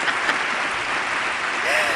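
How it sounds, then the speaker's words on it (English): Studio applause on a radio talk show for a man's anniversary with his wife: brief, steady clapping at moderate level, with a faint tonal sound near the end. "Give me some applause for Richard and his lovely bride."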